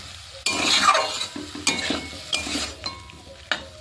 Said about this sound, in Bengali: আলু গেঁড়ি মশলা এবার ভালো করে কিন্তু কষাতে হবে